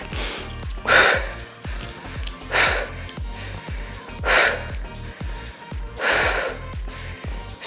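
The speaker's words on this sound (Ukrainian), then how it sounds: "Глибокий вдих. Видих." Deep breaths during a resistance band upper-body strength workout for back, shoulders and arms: four loud, rhythmic inhale-exhale bursts roughly every two seconds over a steady pulsing music beat.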